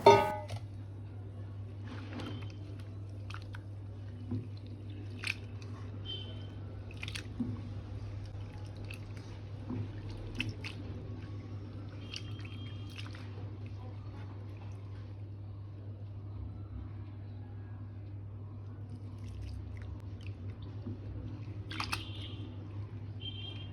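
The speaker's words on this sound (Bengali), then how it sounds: "বেশ কয়েকবার জল পাল্টে পাল্টে ভালোভাবে ধুয়ে পরিষ্কার করে নেব" Prawns are swished and squeezed by hand in water, soft quiet splashes, drips and squishy handling sounds scattered unevenly over a low steady hum.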